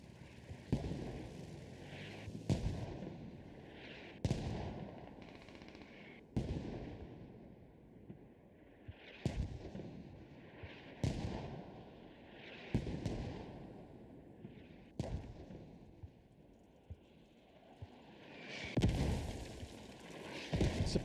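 Mortar fire in the Squad military video game, a long run of heavy booming impacts with sharp onsets, landing every second or two, some overlapping, with a steady background hum.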